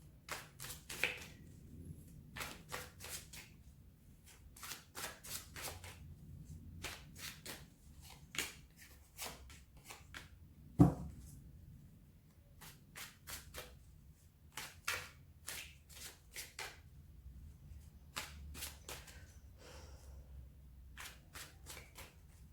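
Tarot cards are laid down one by one and covered with further cards, making soft, close slaps and papery shuffling in irregular clusters. Quiet pauses separate the bursts.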